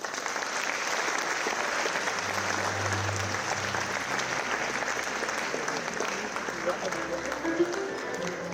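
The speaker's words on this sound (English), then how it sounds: "Can we once again have a huge round of applause for him?" An auditorium audience at a leadership lecture claps steadily to welcome a speaker onto the stage, a sustained, even round of applause with a low hum running beneath it.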